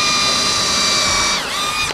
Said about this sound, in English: I'm going to drill here now.